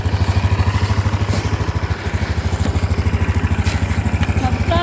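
A Honda Beat motor scooter engine putters steadily and close by as a rider sets off for the first time by a seawall, its pulsing drone continuous throughout.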